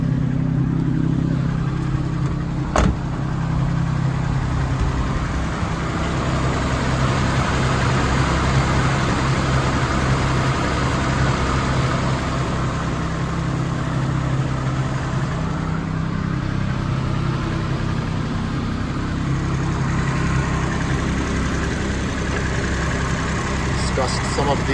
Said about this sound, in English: listen to the engine, the exhaust.